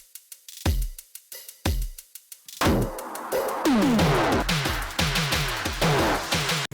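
An electronic music build-up played without saturation: sparse punchy kicks, then a dense rising passage of pitch sweeps and rhythmic hits, loud and close, cutting off sharply at the end.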